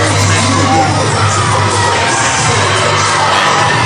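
Loud, continuous roar of a wrestling crowd at Barry's Bay, with children's high shouts and cheers rising over a steady din.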